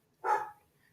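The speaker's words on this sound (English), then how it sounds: "Yeah, Deuce is barking." One single short bark from a dog in another room of a house, moderately loud and slightly muffled, alone against a quiet indoor background.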